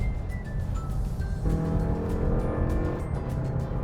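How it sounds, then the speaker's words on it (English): A Mazda CX-5 accelerates steadily from inside the cabin, its engine and transmission winding up in a continuous loud drone with rising tonal whine and no talk over it. "You can hear the gears winding"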